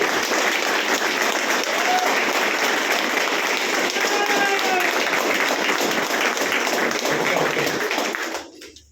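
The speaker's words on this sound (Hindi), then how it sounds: "इसके लिए आप अपने लिए जोरदार तालियां बजाएं" Sustained loud applause from a large crowd at a business plan seminar, dense clapping that holds steady for several seconds before cutting off abruptly near the end.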